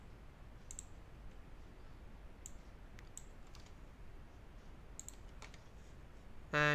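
A few sparse computer mouse clicks scattered through a quiet room while working in a Python debugger, each a faint, sharp tick with gaps between them.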